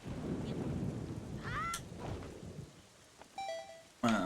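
Thunder rumbles low and heavy during a storm in The Legend of Zelda: The Wind Waker HD, fading after a couple of seconds before short chiming game effects ring out.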